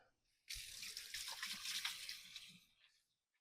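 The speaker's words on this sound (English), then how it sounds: "Let's wash our hands." Water from a kitchen tap runs steadily into a sink for hands being washed during home cooking, a close, even splashing rush lasting a couple of seconds before it cuts off.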